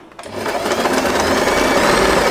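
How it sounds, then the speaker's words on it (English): A sewing machine starts up and runs at a steady fast whir, stitching fabric for a scrunchie with a label, loud and close with no talking. "pull the fabric out from the back side here and continue sewing"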